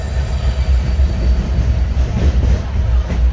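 The Rayalaseema Express passenger train rumbles steadily from inside, with a continuous low roar and faint rattling wheels throughout.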